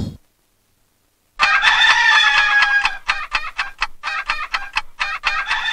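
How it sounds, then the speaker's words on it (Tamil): A rooster crows loudly and close, one long drawn-out call followed by a run of sharp clucking notes, with a short silence before it begins. "இந்த லண்டன் கோழி டெய்லி 6 மணிக்கு கரெக்டா கூவிடும்"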